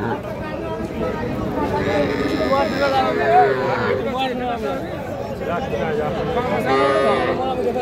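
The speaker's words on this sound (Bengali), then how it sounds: "এইটা দর্শক একটা ক্রোজ জাতের সার বাছুর।" A crossbred bull calf bellows a few times at a busy outdoor cattle market. The long drawn calls rise over the murmur of people and market bustle, while nearby voices talk throughout.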